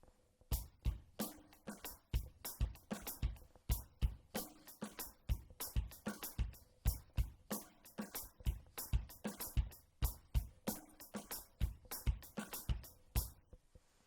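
A steady drum kit groove repeating evenly, with bass drum thumps and crisp snare hits under a constant eighth-note cymbal pulse, played alone.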